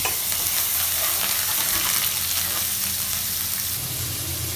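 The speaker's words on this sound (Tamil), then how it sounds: "1 டேபிள் ஸ்பூன் அளவுக்கு இஞ்சி பூண்டு பேஸ்ட் சேர்த்துட்டு எண்ணெயில் வதங்க விடுங்க." Ginger garlic paste sizzles and spatters steadily in hot oil, a loud, continuous frying hiss with occasional stirring noises, close up and without talk.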